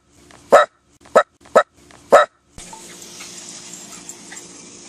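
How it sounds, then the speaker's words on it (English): Dogs let out of the house bark four times in short, loud bursts with pauses between them, followed by steady low background noise. "We let the dogs out."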